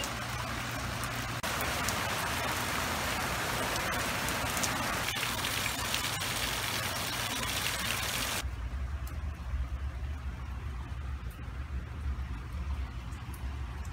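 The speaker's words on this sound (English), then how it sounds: "It's raining." Steady rain pours down on a surface, a constant hiss with close patter, continuing unbroken from start to end.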